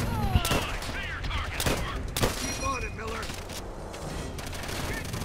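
Gunfire in the video game Call of Duty: World at War, several sharp shots cracking over a busy battle soundscape, with someone talking throughout.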